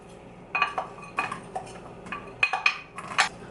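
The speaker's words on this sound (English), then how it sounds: "I am stirring them around right now just to make sure that everything is fully coated in olive oil" Onions being stirred in olive oil in a pan: a utensil scrapes and clinks against the metal in scattered bursts over a quiet background, with no talking.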